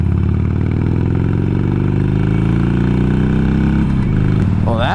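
Harley-Davidson motorcycle cruising on the road at around 60 mph, its deep steady engine drone and wind rumble loud and continuous throughout, with a brief shift in tone near the end.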